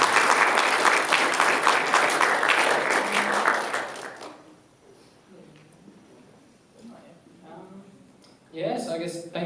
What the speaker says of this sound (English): Just let's give them one more round of applause